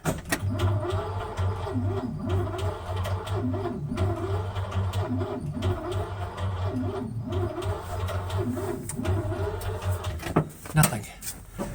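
A car engine, operated with a clutch, cranks steadily without firing, a loud, continuous rhythmic whirring churn lasting around ten seconds before cutting off.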